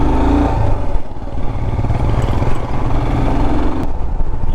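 A motorcycle engine drones loud and close, running steadily on an off-road hill route, with a continuous low rumble, slight shifts in throttle, and faint clatter throughout. No one speaks.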